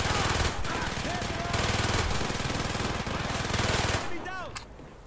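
Rapid automatic gunfire in the video game Call of Duty Black Ops, dense sustained bursts firing almost without pause, loud and close, with shouted voices mixed in before it tapers off.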